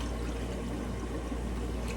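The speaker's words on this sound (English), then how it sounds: "I'm adding the water." Water being poured into a bowl of homemade pizza dough mixture with yeast, a steady soft splashing pour running evenly for about two seconds, close and fairly quiet with no talk.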